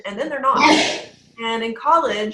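Someone sneezes once during an online education webinar, a sharp breathy burst close to the microphone that breaks into a speaker's ongoing talk.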